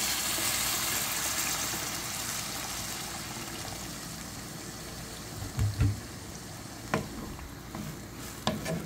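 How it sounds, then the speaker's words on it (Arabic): Hot water is poured into a cooking pot of broad beans on the stove, making a soft steady gushing hiss that slowly eases off, followed by a few light clinks of the pot. "بدي احط له المي السخنه"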